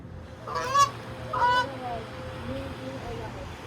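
Goose-like honking from a duck at a creek park, two loud honks in quick succession near the start, followed by fainter calls over steady outdoor background noise.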